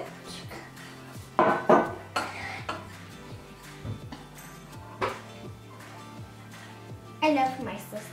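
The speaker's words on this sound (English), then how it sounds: "And stir it." Stirring pizza dough in a pot on a stovetop, with scraping and clinking of a utensil against the pot in a few short bursts, heard up close under a continuous background hum.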